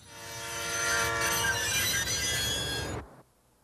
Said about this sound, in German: Trotz der verzweifelten Notbremsung des Maschinisten kam der Zug bedingt durch sein Eigengewicht erst nach ca. 800 Metern zum Stehen.